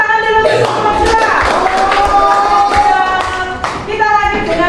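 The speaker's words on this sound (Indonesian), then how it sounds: "tepuk tangan dulu untuk semua" Students in a classroom applaud with a ragged patter of hand claps, while a voice talks over much of it.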